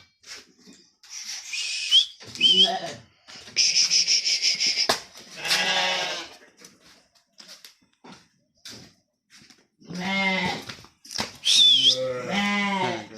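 Field-raised sheep and long-legged lambs, including twin ewe-and-lamb pairs at a livestock sale, bleating in several loud, close calls separated by short pauses, with a few overlapping cries.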